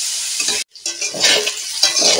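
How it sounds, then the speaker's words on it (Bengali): Potatoes and pointed gourd are stirred in a wok, giving close scraping and rustling strokes over a low sizzle of frying oil, with one brief silent break. "এইভাবে দিয়ে নাড়াচাড়া করলে আলুটা সেদ্ধটা বেশ ভালো হয়ে যাবে নাড়তে নাড়তে।"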